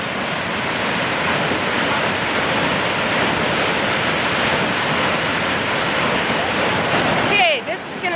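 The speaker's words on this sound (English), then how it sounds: "I'm gonna jump into the waterfall" A Costa Rican waterfall roars in a loud, steady broadband rush that fills the whole scene, briefly broken near the end by a voice.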